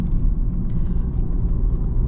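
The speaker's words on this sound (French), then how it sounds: "En conduite normale ça enroule bien, mais on sent que le moteur il est volontaire et qu'il a vraiment envie de pousser" An Audi S3 8V saloon being driven at a steady pace, with a deep, constant engine and road rumble heard from inside the cabin. The drone stays loud and even throughout, with no speech.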